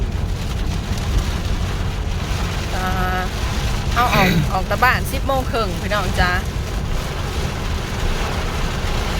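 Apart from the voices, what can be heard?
heavy rain and wind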